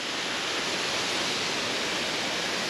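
Steady broadband rush of a mountain waterfall in winter snow, loud and continuous with no break in the roar and no voices over it.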